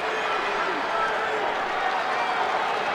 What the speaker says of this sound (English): This crowd noise is going to pick up as well.